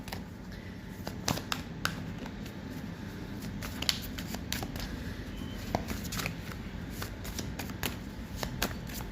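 Tarot cards shuffled steadily by hand for the full stretch, a continuous papery riffle of quick overlapping flicks and slaps, close and fairly loud, with no voices.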